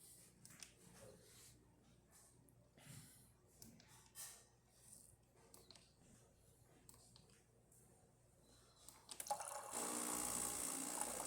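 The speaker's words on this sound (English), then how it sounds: "So let's test the hot water too." Hot water from a Gaggia Amina espresso machine hisses and sprays into a cup, starting abruptly after a quiet stretch of faint handling noises and running steadily to the end.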